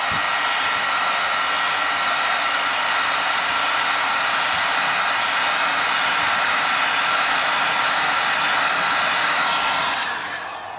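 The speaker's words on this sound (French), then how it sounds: "On va commencer donc tout simplement à chauffer." A heating tool blows hot air to warm the broken glass of an iPad 2: a loud, continuous, close whooshing roar, like a hair dryer, that runs unbroken and eases off slightly at the end.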